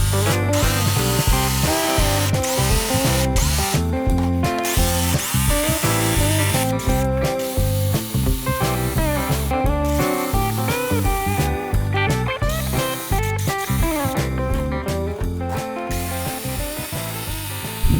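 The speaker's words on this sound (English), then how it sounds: "then just take out the inside shape with the jigsaw" Loud power tools cut through plywood, a buzzing jigsaw with rapid stuttering strokes and brief pauses, running close and continuously without talk.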